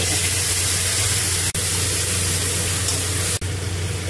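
Ginger, onion, garlic, green chili and tomato paste sizzle in hot oil with bay leaf, cumin and dried chili, a close, continuous hissing spatter with two brief sharp clicks.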